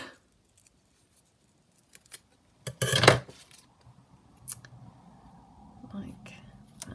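Scissors cut roughly through craft material for making pockets and tuck spots, giving a short burst of crisp snipping and rustling at close range amid quiet handling noises.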